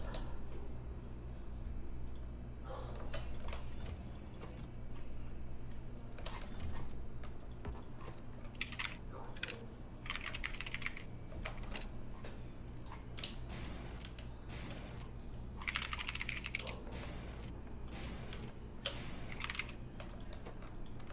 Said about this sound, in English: I'm gonna type something to you, Destiny.